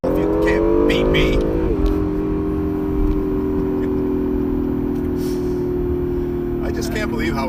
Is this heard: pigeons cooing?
no